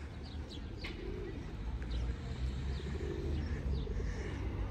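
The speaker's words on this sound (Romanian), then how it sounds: "Ia porumbei și eu mă chem de ei" Pigeons coo softly in low repeated murmurs over a steady background rumble in the town of Drobeta-Turnu Severin, Romania, with a few faint chirps from other birds.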